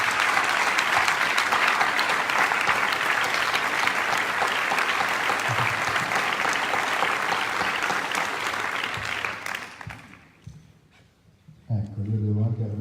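Bipartisan audience applause for two women candidates for mayor of Codognè at a public debate, loud sustained clapping from a crowd for about nine seconds before fading out, followed by a brief quiet and some low rumble.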